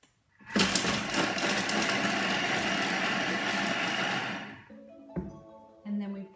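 A Thermomix food processor at speed 5 chops tuna casserole ingredients in a loud, steady whir lasting about four seconds, then winds down, followed by a few clicks and a short quieter hum.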